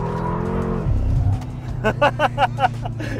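A car engine revving then dropping in pitch as it slows under braking, followed by rhythmic bursts of engine and tire noise, with talk over it.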